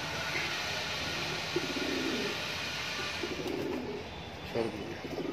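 Two low, rolling coo phrases from high flyer pigeons of the border breed, held for sale in Mumbra, Thane, rise out of a constant noisy background, with faint indistinct voice sounds in between.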